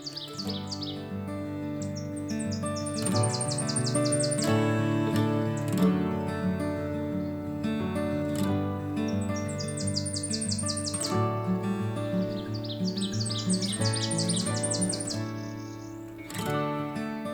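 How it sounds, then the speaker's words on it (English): Birds singing in an early-summer forest, with repeated bright trilling phrases over a steady layered chorus of calls, continuous and fairly close, no voices. "the forests were still filled with bird songs"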